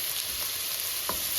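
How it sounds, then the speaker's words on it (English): Onion is added to mushrooms frying in a pan, bringing a steady, fairly quiet sizzle with a couple of soft stirring knocks close by, and nobody talks. "That's when we bring in the onion. Just add the onion there,"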